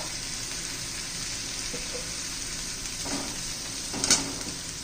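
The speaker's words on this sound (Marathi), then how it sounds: "सगळं आपण व्यवस्थित मिक्स करूया." Bitter gourd curry sizzling softly in a pan after jaggery is added, with a steady low frying hiss and a few faint scrapes and clinks of a spoon stirring it.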